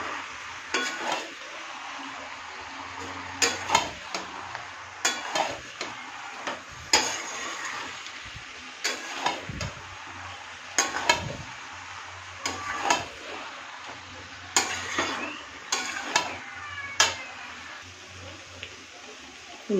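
Malabar spinach cooks in a hot pan with spices, a low sizzle under repeated scraping and clinking of a spatula against the pan, close-up, with a voice speaking now and then.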